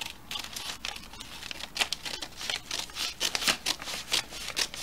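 Scissors snip and crinkle through a paper sleeve pattern, trimming away the excess in a quick series of close, crisp cuts and rustles with no talking.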